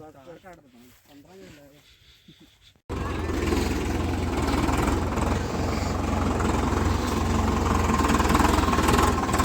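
Brief talking, then a loud engine starts up and idles steadily nearby with a deep, constant rumble.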